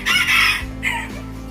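Rooster and hens in a breeder pen on a Filipino gamefowl farm, a loud close crow with clucking filling most of the short stretch, then quieter bird calls.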